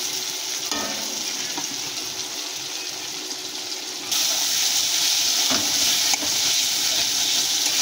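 Salted tomatoes stirred and fried in oil for a tangra fish curry. A continuous, hissing sizzle with soft stirring scrapes swells louder partway through and stays up close, with no voices.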